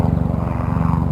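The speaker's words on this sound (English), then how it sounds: "Right on cue, a helicopter arrives to demonstrate my point." A helicopter flying overhead makes a loud, continuous rhythmic chopping drone throughout the brief moment, with no other sounds over it.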